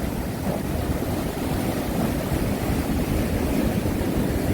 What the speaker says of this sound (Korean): 파도 위에 부분은 이렇게 거품이 일고 있습니다